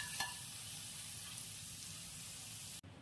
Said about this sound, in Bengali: এরকম করে আমি প্রত্যেকটা ফিশ ফ্রাই একইভাবে ভেজে নেব